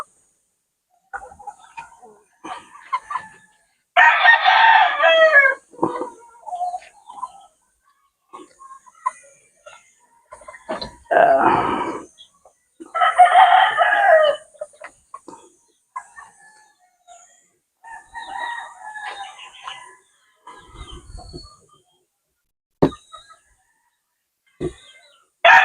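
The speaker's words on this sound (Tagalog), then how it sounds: "Kaya palahi ng manok ni Boss Bong Labado mga idol." A rooster crows loudly several times among clucking chickens nearby on a small farm raising gamecocks, with pigeons present, some other bird calls and occasional background voices.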